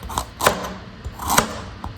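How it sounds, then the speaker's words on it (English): Carrots are chopped on a cutting board while making kale chili, two crisp knife strikes about a second apart, close and distinct, each with a sharp thud against the board and no talking. "here we go cutting up some carrots. Oh, I love the sound of a great chop"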